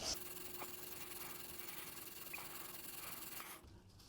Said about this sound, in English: I'm using a wire brush, but you can use sandpaper if you really want to.